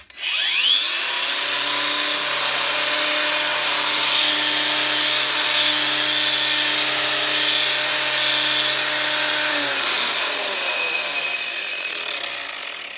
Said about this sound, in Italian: accendiamo la smerigliatrice angolare